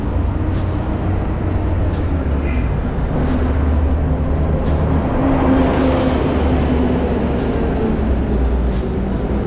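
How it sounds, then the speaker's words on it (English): Buses rumble past on a busy Buenos Aires street in the Bajo Flores area, a loud steady wash of engine drone and road hiss close by, with faint brake squeals. "the same two buses keep passing me"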